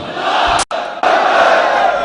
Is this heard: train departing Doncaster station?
no